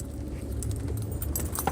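Car keys jingle and jangle continuously against a car during a drive, a light metallic rattling that sits over a steady low road rumble from start to finish, with no voices.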